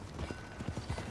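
Horse hooves clip-clopping in the video game Red Dead Redemption 2, a steady walking rhythm of soft thuds under a faint background bed.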